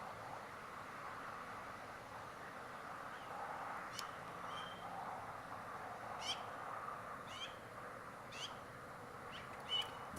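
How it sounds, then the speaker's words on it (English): A magpie squawking while harassing a bald eagle in an Alaskan backyard, several brief harsh calls scattered over a steady outdoor hiss, faint and somewhat distant. "That might be a magpie. It's harassing that eagle."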